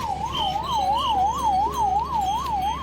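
An ambulance siren on the high-altitude Amarnath Yatra mountain route wails steadily, rising and falling in an even rhythm, loud and close, with a low engine rumble underneath.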